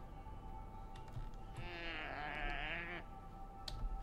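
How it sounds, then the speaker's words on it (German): A goat in World of Warcraft gives a single drawn-out, wavering bleat, fairly close, over a steady game-ambience drone with no talking. "Eine Ziege."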